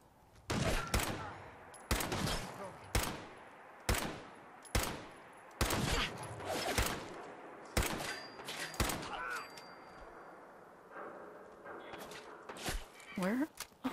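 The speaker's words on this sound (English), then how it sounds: "Where are they shooting from?" Gunfire in the video game Fallout 4, a fast series of loud, sharp shots coming in bursts and single cracks, with some pauses between them and a player's voice heard briefly near the end.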